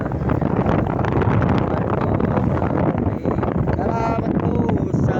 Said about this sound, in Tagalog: Dahil ang hangin po rito ay ubod ng sarap.